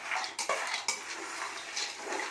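A metal spatula scrapes and stirs hard areca nuts roasting in a pan, a steady rattling shuffle with a couple of sharper clanks early on.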